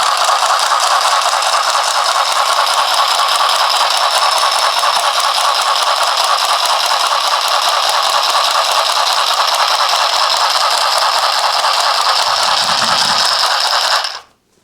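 A PFAFF Sew Quick handheld mending machine stitches thin T-shirt fabric with a rapid, steady mechanical rattle and clatter, loud and close, running for about fourteen seconds before stopping.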